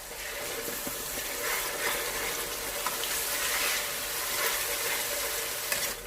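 Chicken frying in a pan with a green paste of coriander, mint and green chilies for dum biryani, a dense, steady sizzle with occasional soft stirring clicks and no voices.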